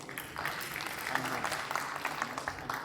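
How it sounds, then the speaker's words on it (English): Steady applause from an audience as aerospace engineers pitching Dream Aerospace walk onto a startup pitch event stage in Chandigarh, a dense even patter sustained throughout at moderate distance. "Please give them a huge round of applause."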